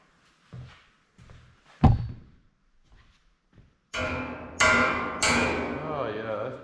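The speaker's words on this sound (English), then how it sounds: "Let me get my hammer, straighten it back out" A hammer strikes a small welded metal tab on a truss, giving several sharp knocks of varying loudness, one heavy ringing blow, then a few loud metallic clangs that ring out close by.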